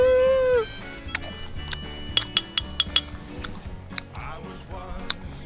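Someone eats soy-cured Iberico pork neck over rice, with a short voice at the start followed by close, sharp clicks and clinks of cutlery and soft chewing sounds.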